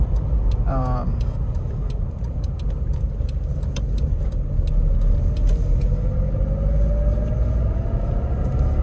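A 1995 Toyota Hilux Surf engine pulls smoothly in fourth gear at highway speed, a steady close rumble with road noise and a slowly rising engine tone throughout.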